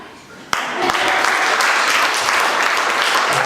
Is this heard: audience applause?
yes